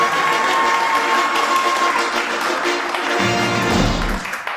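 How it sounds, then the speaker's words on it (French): A studio audience on a French entertainment news show applauds loudly and continuously, a dense wash of clapping that tails off toward the end. "je vous demande de m'applaudir très très fort"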